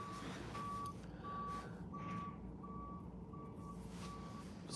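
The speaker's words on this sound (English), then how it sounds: "There's a beeping noise. I don't know if you guys can hear it." Steady repeating reversing beeps from a garbage truck, evenly spaced tones over a low engine rumble, somewhat distant.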